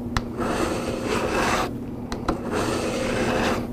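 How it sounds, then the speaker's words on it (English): Steel broadhead stroked firmly across a DMT DiaStrike diamond sharpener; close, gritty rasping strokes, a couple of sharp taps, and a brief pause midway before the rubbing resumes. "Place the broadhead down firmly on the DiaStrike and stroke"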